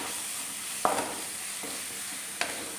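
A spoon scrapes through thick spice paste in a pan for prawn and dried mango pickle, with a few distinct scraping strokes over a faint, steady sizzle.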